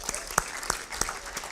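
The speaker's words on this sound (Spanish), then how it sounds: "Vamos a darle un aplauso a esas valientes." Light applause in a church during a sermon, scattered sharp claps sounding close and moderately loud with soft voices underneath.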